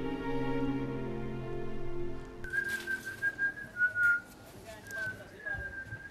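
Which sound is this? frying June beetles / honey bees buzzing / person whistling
person whistling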